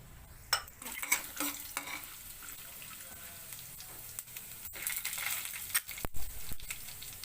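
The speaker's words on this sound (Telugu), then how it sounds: "ఇప్పుడు ఈ తాలింపు దినుసులన్నీ దీంట్లో వేసేయాలి." Urad dal, peanuts and mustard seeds frying in hot oil for a tomato pulihora tempering, a soft close sizzle with scattered pops and a few stirring scrapes and clinks, no talking.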